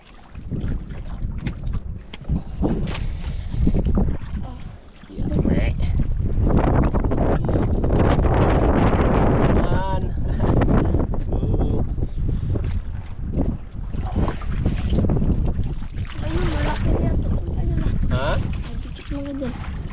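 Strong wind gusting over a fishing boat at sea, roaring and buffeting the microphone almost continuously, with a short lull near the start and faint voices now and then beneath the rush.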